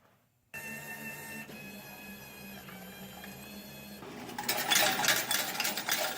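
A laundromat change machine takes a $20 bill and dispenses quarters: a mechanical whir starts abruptly, runs steadily, then turns into a louder rattling clatter of coins pouring out.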